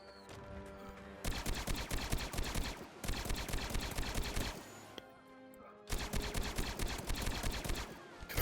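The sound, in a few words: gunfire from Star Wars mod weapons in video game Blade and Sorcery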